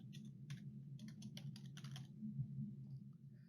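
Computer keyboard keys clatter in quick bursts of crisp clicks while entering data in an Excel spreadsheet, with pauses between bursts over a steady low electrical hum.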